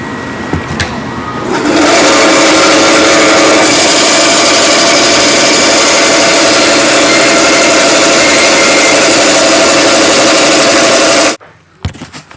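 A band saw cuts through a wooden push stick, a steady loud whine and buzz of blade and motor held for nearly ten seconds before cutting off abruptly.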